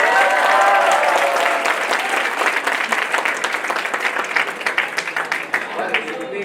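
Dense audience applause fills a hall at a health discussion forum in Jaipur, loud at first and gradually thinning, with a few voices faintly underneath.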